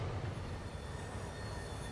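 Train wheels rolling and squealing on rails, a faint, steady metallic grind with a sustained high squeal, fairly distant and heard alone.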